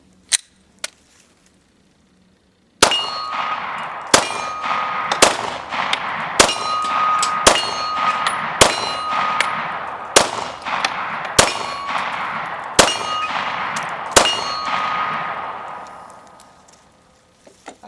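Ten rounds from a Glock 19 strike steel targets outdoors, each shot a sharp clang with a bright metallic ring, fired at a steady pace of roughly one per second and fading off at the end.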